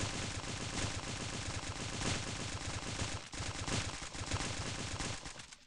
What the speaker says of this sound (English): it takes so many shots with the AK-47 to kill the juggernaut